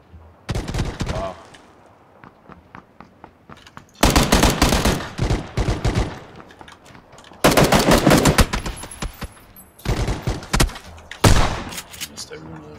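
Automatic gunfire in the PUBG battle-royale video game, bursts of rapid shots in several loud clusters separated by brief quieter gaps, some fainter distant shots in between.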